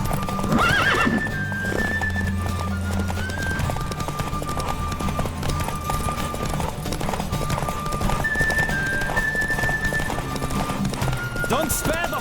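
Hooves clip-clop at a steady gallop with a horse neighing during a race in the video game The Witcher 3, with game music and a character's voice talking over the hoofbeats throughout.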